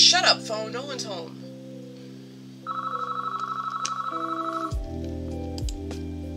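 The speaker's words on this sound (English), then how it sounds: "Oh, shut up, phone." A telephone rings indoors at home as a rapid, repeated electronic trill lasting about two seconds, clearly heard over steady background tones from a computer game.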